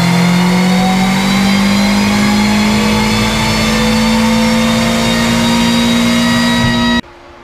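Renault 5 GT Turbo, converted from carburettor to AFI injection, revving hard on a dyno: a loud, steadily rising engine note sustained for about seven seconds, then cut off abruptly.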